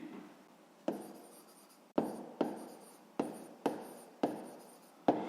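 Pen strokes scratch across paper in a Grade 6 maths exercise, seven or eight distinct bursts each starting sharply and trailing off, close and fairly quiet with no talk.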